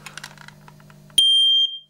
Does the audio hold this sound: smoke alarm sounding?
yes